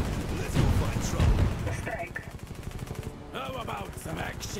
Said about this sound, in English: we can call in a support artillery barrage